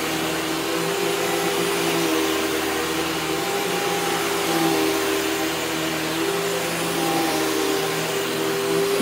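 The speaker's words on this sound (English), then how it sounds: "most vacuums don't like this rug. Let's see if this one will do it. We'll start with the lowest setting." Vacuum cleaner running on a rug at its lowest setting, a steady whining motor hum with a constant tone, close and unbroken throughout.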